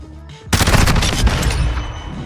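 A submachine gun fires in Modern Warfare: after a quiet start, a loud, close, rapid burst of automatic shots rattles on continuously to the end.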